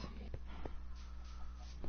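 Minecraft chickens cluck in a farm pen, a crowded low murmur of bird calls with a few short clucks poking out over a steady game background hum.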